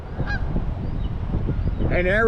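Geese honk nearby, a few scattered calls followed by a louder burst of honking at the end over a low outdoor rumble.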